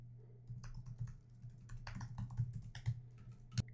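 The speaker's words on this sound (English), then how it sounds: "I'm just going to type in somebody's email" Rapid typing on a computer keyboard while entering an email address, a quick irregular run of close, crisp key clicks over a faint steady hum, with a sharper tap near the end.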